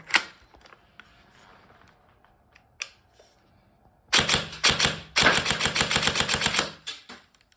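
A G&G SGR556 electric airsoft rifle fed from a Magpul PTS magazine fires in a rapid close burst of sharp mechanical clacks after scattered handling clicks and a few single shots.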